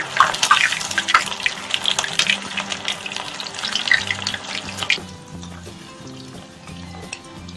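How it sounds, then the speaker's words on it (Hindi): Soya chaap deep frying in a pan of hot oil, a loud crackling sizzle with bursts of bubbling that calm to a softer, steadier fry partway through. "पैन में हम ऑयल गरम कर लेंगे और चाप को डीप फ्राई करेंगे"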